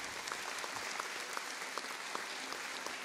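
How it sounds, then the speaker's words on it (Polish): Audience applauds at an award ceremony where a special prize goes to a congregation of nuns: steady, dense clapping from a crowd, moderately distant and continuous throughout. "Siostry od Aniołów, wielkie brawa!"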